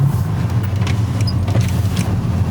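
An Audi S3 with a stage 1 remap drives along, its engine a steady low drone heard from inside the cabin, with road rumble and faint rattles at constant moderate loudness.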